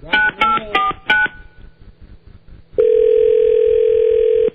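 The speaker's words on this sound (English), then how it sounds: "Oh, let me redial." A telephone number is redialed on a landline keypad: a few sharp, distinct dialing tones in quick succession, a brief pause with faint line noise, then a loud steady tone holding to the end.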